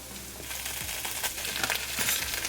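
Roasted peanuts stirred into a sizzling tadka for a creamy shrimp peanut curry, giving a steady close frying hiss with soft scraping stirs throughout.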